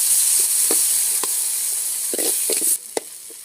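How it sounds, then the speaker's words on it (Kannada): Onion and medium-size cut tomato frying in a pan for a village-style mulake huli kalu saaru, a steady close sizzle and steam hiss broken by several soft stirring scrapes, with no talk. "ಸ್ವಲ್ಪ ಮೆತ್ತಗೆ ಆಗೋವರೆಗೂ ಫ್ರೈ ಮಾಡ್ಕೋಬೇಕು"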